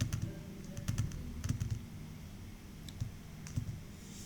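Computer keyboard keys clatter in short, irregular bursts of clicks, close and moderately quiet, with pauses between groups of keystrokes.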